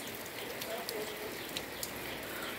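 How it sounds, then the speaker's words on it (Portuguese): Rain keeps falling during a very wet morning, a soft continuous hiss of drops on surfaces with a few brighter taps, heard faintly and evenly throughout. "E a chuva continua aqui."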